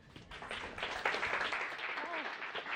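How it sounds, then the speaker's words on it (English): Audience applause at an indoor World Food Day celebration, fairly faint and slightly distant, a soft patter of many hands swelling after the first moment and holding steady, with murmured voices underneath. "please welcome her again with applause"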